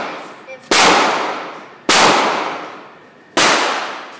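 Three loud, sharp gunshots from a Pietta PPS50 .22 fitted with a 50-round drum magazine, evenly spaced about a second and a half apart, each with a long ringing decay.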